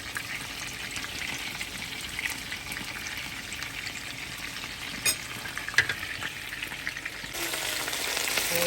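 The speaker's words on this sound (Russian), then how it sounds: "Так вот теперь жарю, потому что хорошо." Potatoes sizzle steadily in a hot pan, a close, continuous frying hiss with a couple of brief clicks and scrapes.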